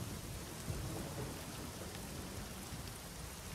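Heavy rain pours in the video game Secret Files: Tunguska, a dense steady wash of rainfall with a low rumbling undertone, constant and fairly quiet, with no voices.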